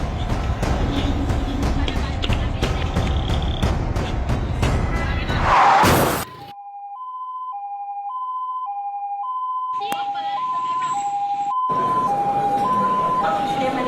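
An ambulance siren wails in a steady, alternating pitch pattern after a burst of loud noise, with muffled commotion returning near the end.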